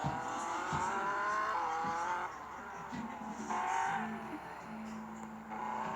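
A Tofaş Şahin car revs and accelerates in a driving video game, a buzzing engine tone rising and dropping in pitch over several seconds, with a brief tire squeal and a steady background layer.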